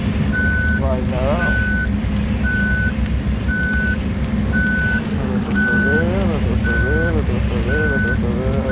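Reversing bus in Bus Simulator Ultimate gives a regular series of short, evenly spaced beeps over a steady engine drone, while a voice talks intermittently.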